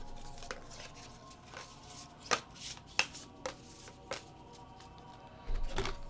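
Cardboard tiles from the Castle Ravenloft board game are shuffled on a table at close range, giving light clicks and clacks at uneven intervals and a short rustling flurry at the end.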